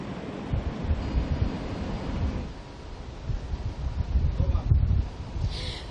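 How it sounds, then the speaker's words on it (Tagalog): Rough, rumbling surf from a typhoon pounds steadily at a surfing beach in Daet, Philippines, mixed with gusty wind buffeting the microphone. "makikita nyo no, yung malakas na alon ngayon"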